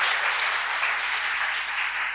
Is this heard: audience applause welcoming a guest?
yes